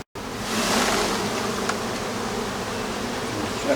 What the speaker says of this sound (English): I'll just shake these bees over the back, then they can go back into the hive.